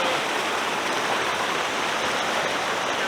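Steady rushing water pours through a gold sluice set up beside a clear Colorado creek, a constant broadband wash without pause, close and fairly loud, with no voices.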